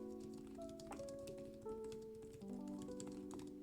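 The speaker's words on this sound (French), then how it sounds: "je vais essayer de vous faire un typing test" Quick, light key taps on an Honor MagicPad 4 tablet keyboard click in an irregular stream, close up, with a faint sustained tonal hum running underneath.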